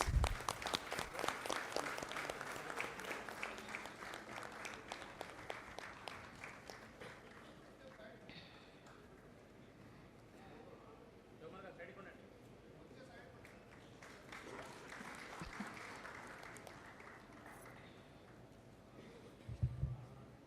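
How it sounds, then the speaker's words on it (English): Applause at a triennial bank officers' conference, a crowd clapping steadily for a long stretch, strongest at the start and then continuing more softly in the background. "A big round of applause,"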